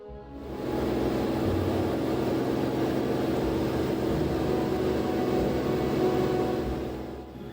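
An N2500T aircraft engine during a climb, producing a steady, loud, broadband roar heard from inside the cabin, holding constant throughout after a quick rise at the start and easing slightly at the end.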